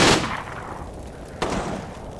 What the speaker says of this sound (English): The super machine gun squad.